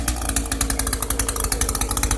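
An Echo GT 225 string trimmer fitted with a Hipa speed feed head runs steadily at high revs, a loud, close, buzzing two-stroke whine with a fast pulsing rhythm and no talking.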